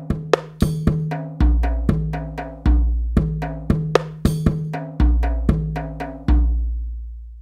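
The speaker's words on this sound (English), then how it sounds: "the use of these 2 sequential pair of paradiddles followed by a 1 accent note" A drum paradiddle pattern with accents played slowly: a steady run of single strokes in which the louder accented hits ring out with a deep, booming decay between the lighter taps.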